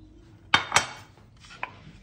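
A knife slices mushrooms on a cutting board for a chicken and mushroom cream dish, giving two quick crisp chops and then a softer third cut. The cuts are close and clear in a quiet kitchen.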